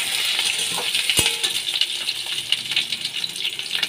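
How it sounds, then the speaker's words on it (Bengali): Shola kochu (taro) pieces frying in hot oil with black cumin, a steady close sizzle throughout with one sharp clink of a utensil early on. "শোলা কচু আমি ভেজে নিচ্ছি।"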